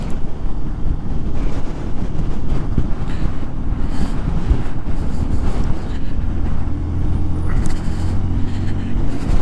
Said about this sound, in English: Well, it's very windy and it's been raining all morning